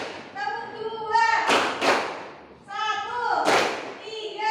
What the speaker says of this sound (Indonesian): Tepuk 2, tepuk 1, tepuk 2